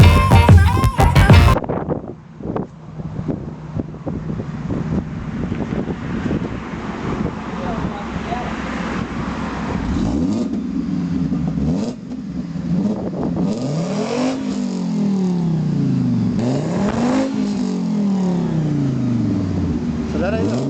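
A Fiat Marea car with two exhaust pipes roars through repeated throttle blips, its engine note swooping up and down in rising surges under wind buffeting on the microphone, with people talking nearby.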